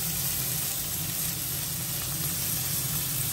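Carrots and peas sizzle in a hot pan while Maggi noodles are being cooked, a steady, even hiss with no breaks and no voices.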